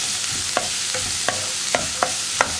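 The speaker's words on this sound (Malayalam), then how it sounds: "ഇപ്പോൾ സവോളയൊന്ന് കളർ മാറി വരുന്നത് വരെ ഇളക്കി കൊടുക്കുന്നേ ഉള്ളൂ" Sliced onions frying in a pan for paneer masala curry, a soft continuous sizzle with about six sharp scraping strokes of a spatula stirring at a steady, unhurried rhythm.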